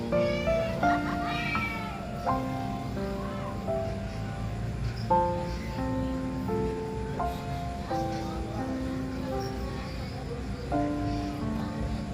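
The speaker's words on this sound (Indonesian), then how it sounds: "Teman-teman, ada kucing di bawah mobil." A cat under a car meows repeatedly, drawn-out, plaintive cries at irregular intervals over a low background rumble, fairly close, at night.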